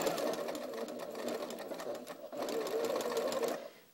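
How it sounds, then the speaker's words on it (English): A sewing machine runs steadily, stitching fabric pieces together for a curved quilt square, with a continuous close whirring that dips briefly midway and stops near the end. "continue sewing"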